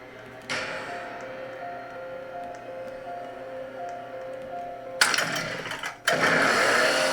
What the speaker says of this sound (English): And there he is, Chainsaw Guy, coming through